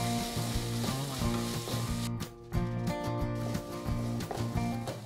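Ginger garlic paste sautés in a hot pan for a goat blood and egg fry, giving a loud, steady sizzle that dips briefly before resuming, with no talking over it.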